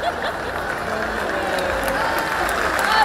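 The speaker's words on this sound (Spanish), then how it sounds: "Ovación de la plaza" A bullring crowd gives a sustained ovation at a bull-running encierro, applause and cheering spreading through the plaza and swelling louder toward the end.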